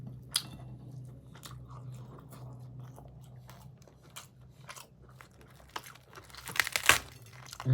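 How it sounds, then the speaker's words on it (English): Crispy lechon pork belly, roasted with garlic, onions, bay leaves, lemongrass and spring onion, being bitten and chewed up close, with quiet crunches and a few sharper crackling bites near the end. "The meat is so crispy."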